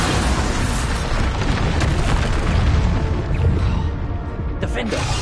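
Bombarda spell explosions in a Harry Potter video game, a loud continuous rumbling blast with booming low end and debris-like noise, sustained for several seconds with a brief sharper burst near the end.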